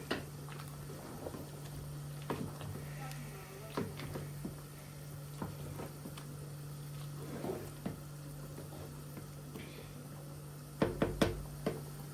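A spoon knocks and scrapes against a pot while soup is stirred, giving scattered soft clinks and taps over a steady low hum, with a louder cluster of knocks near the end.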